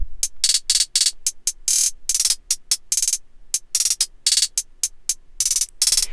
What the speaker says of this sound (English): they're not like your ordinary 2-step pattern hi-hats.